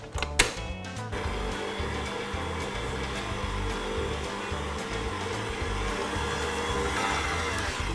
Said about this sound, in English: whack that on your mixer and beat it together for about a minute on a medium to high speed